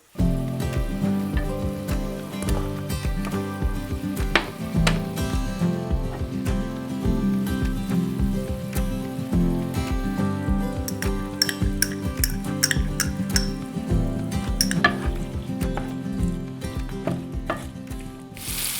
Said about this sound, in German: Wir braten jetzt alles gemeinsam so lange an, bis das Gemüse braune Stellen angenommen hat.